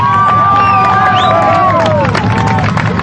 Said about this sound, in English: crowds of protesters let out a big cheer